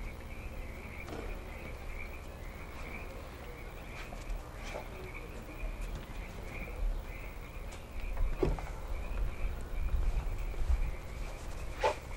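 Frogs croak outdoors at night in a rural valley, a steady chorus of distant calls with occasional closer croaks over a quiet background hum.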